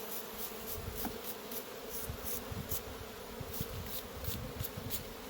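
Honey bees swarm around an open hive during a hive inspection, a steady dense buzz with occasional louder passes of individual bees close by.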